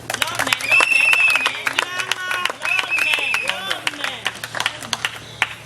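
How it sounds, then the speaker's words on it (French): Guests at a civil wedding applaud, a burst of clapping from a small crowd with voices and cheerful calls talking over it, then thinning to scattered claps toward the end. "On peut applaudir."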